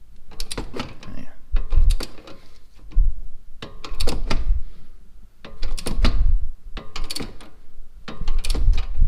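A cheap torque wrench ratchets in repeated bursts of clicking while tightening a sway bar link bolt on a 2011 Chevy Equinox, the clicks close and fairly loud with short pauses between strokes.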